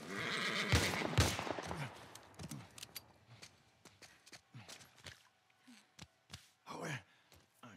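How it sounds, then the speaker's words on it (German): Horse neighing in the video game The Last of Us Part 1, a clear whinny near the start followed by scattered snorts, hoof sounds and short game noises. "Hole ein fettes Pferd."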